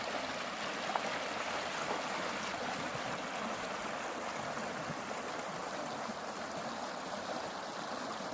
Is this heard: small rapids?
yes